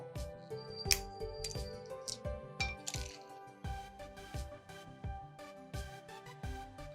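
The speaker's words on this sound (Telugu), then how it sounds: "వీటిని కూడా డ్రై రోస్ట్ చేసుకుందాము." Halved pistachios dry-roast in a pan, their shells and nuts clattering in quick, crackling clicks as they are stirred, a steady run of small sharp taps over a soft background hum.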